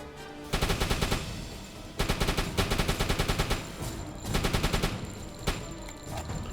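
A submarine deck gun fires high-explosive shells in the WWII game UBOAT in the Irish Sea, heard as several loud rapid bursts of rhythmic shots with brief pauses between them.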